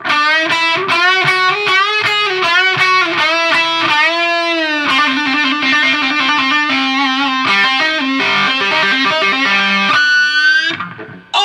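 Distorted electric guitar playing a fast run of legato notes with pitch bends, loud and continuous, ending in a brief cutoff.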